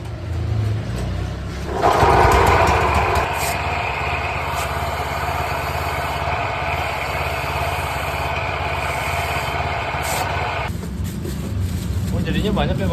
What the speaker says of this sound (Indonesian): di sini langsung diparut